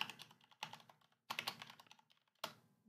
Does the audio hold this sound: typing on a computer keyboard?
yes